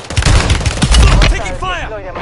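Enemy gunfire from a video game crackles in a loud, rapid burst of shots at close range, then a voice speaks over the tail end.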